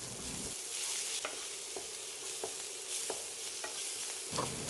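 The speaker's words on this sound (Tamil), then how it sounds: "இது எல்லாமே பொடியாக கட் பண்ணி சேர்த்து லேசாக வதக்கி விட்டுடலாம்" Chopped onion, ginger, garlic and green chili sauté in a pan for chicken cutlet filling, a close hissing sizzle broken by several scraping stirs of a spatula, with no talking.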